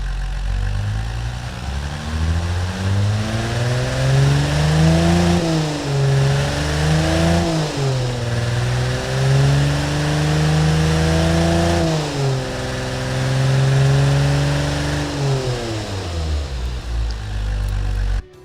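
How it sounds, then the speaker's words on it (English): A Chevrolet Stovebolt inline-six car engine revs up and down repeatedly, its deep growl rising and falling in pitch over a steady idle, loud and close. "Why am I revving the engine?"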